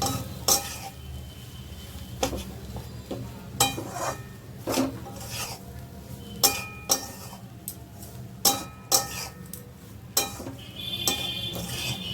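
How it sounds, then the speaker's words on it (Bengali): A spoon scrapes and knocks against a pan while boiled, salted potatoes are stirred, giving sharp irregular clanks and scrapes over a low steady background hum, close and clear with no talking. "এবার ভালো করে এটাকে নাড়াচাড়া করি"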